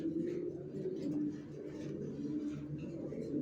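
Original racer pigeons coo softly in a loft, giving low, throaty, repeated calls that overlap and pulse gently, faint and close, with no talk.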